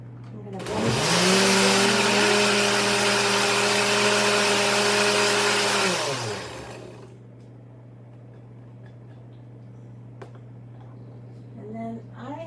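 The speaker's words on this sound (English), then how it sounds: "I'm going to blend it" A countertop blender purees raw tomatillo salsa with lime, roaring loud and steady for about five seconds before winding down, followed by quiet kitchen background with a few small clicks.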